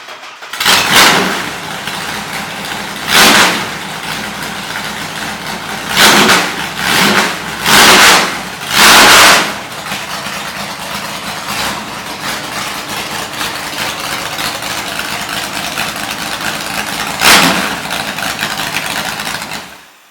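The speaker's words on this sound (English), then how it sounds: "I had no idea that you could even make a six-cylinder sound like this" Vintage Opel drag car with an inline six-cylinder engine, idling with a steady lopey rumble that is broken by several sharp, loud revs. It is close and loud, with no talk over it.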